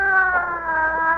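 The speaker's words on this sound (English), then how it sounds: "That's the ambulance, I guess." An ambulance siren wailing in a steady, held tone, moderately loud and close, alone for a brief moment on an old radio detective drama.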